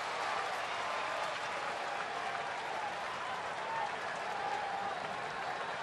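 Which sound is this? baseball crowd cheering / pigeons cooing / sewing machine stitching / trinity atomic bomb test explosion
baseball crowd cheering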